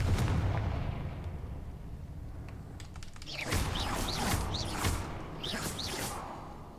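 Confringo, an explosive spell cast in the Hogwarts Legacy video game, sets off a run of sharp fiery bursts and crackling blasts over steady game ambience, several impacts clustered closely together.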